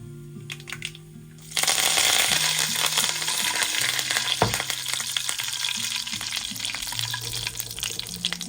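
Curry leaves dropped into hot oil for sambar burst into a loud, steady sizzle after a quieter opening, crackling continuously with small spits and a sharp pop midway, no talking.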